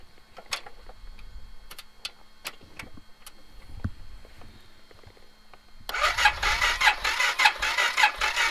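A motorcycle's engine is cranked with a MicroStart jump starter: several sharp clicks and ticks first, then a loud, continuous churning starter grind that keeps on without the engine catching.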